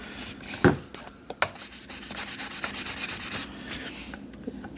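Sandpaper rubs repeatedly over the plastic body of a vintage Telstar telephone in quick, even back-and-forth strokes, close and clear after a few scattered handling knocks.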